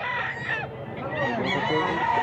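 A rooster crows loudly and close, one long drawn-out call filling the moment, with a low murmur of voices underneath in a rural village setting with many chickens.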